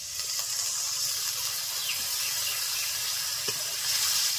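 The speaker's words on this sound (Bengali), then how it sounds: "আর এখন দিয়ে দিচ্ছি সামান্য পরিমাণে জল" A little water added to frying tender garden okra in a spicy stir-fry, producing a steady close hiss and sizzle throughout with faint scattered pops and no talking.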